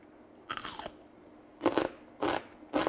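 Crisp, loud crunching bites into crunchy Korean radish kimchi (kkakdugi), close to the ear: one bite, a pause, then three quick crunches in a steady rhythm with no talking.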